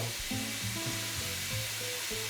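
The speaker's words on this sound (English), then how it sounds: "brown that garlic and onion a little bit" Garlic and onion browning in a pan for beef pares, a steady close sizzle with faint stirring scrapes and some tonal background sound over it, no talking.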